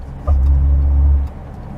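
A 1968 Toyota Corona engine drops into third gear, a loud low drone that swells for about a second and then eases back to a softer hum.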